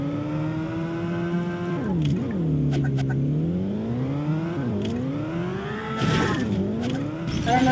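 A car driven in the video game Garry's Mod hums with a steady engine drone whose pitch rises and falls through repeated gear shifts and revs, with brief clicks and tire noise, continuous and close.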